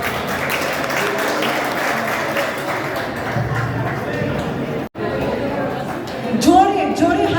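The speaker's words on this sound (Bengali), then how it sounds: "জোরে জোরে হাততালি।" An audience at a Pohela Boishakh stage performance claps after a recitation, a dense, steady wash of applause mixed with crowd chatter, with a brief dropout partway before the clapping resumes.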